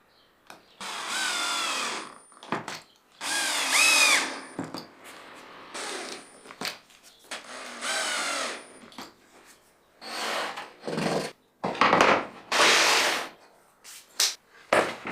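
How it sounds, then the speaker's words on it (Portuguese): A power drill drives screws into plywood while a wooden storage rack is assembled, glue joints fastened instead of clamped. Repeated loud bursts of a few seconds each alternate with brief pauses and, toward the end, shorter rapid bursts. "para ganhar tempo, fixo com parafusos em vez de usar sargentos e esperar a cola secar."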